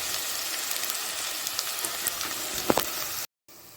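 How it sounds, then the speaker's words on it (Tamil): Brinjal sautéing in generous oil in a pan, a steady close sizzle with scattered pops and crackles, briefly cutting out near the end before resuming. "இப்போ பாருங்கள் நல்லா கத்திரிக்காய் வதங்கிருச்சு இது கொஞ்சம் தாராளமாக எண்ணெய் ஊற்றணும்"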